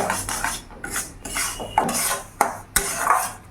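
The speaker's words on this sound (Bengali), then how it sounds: "এবার আমি সুজিটাকে ভালো করে ভেজে নেব, যাতে সুজির কাঁচা ভাবটা চলে যায়।" Semolina being dry-roasted in a pan over a gas flame, with repeated scraping and rasping of a utensil against the metal and a few sharp clinks, close and fairly loud, no talk.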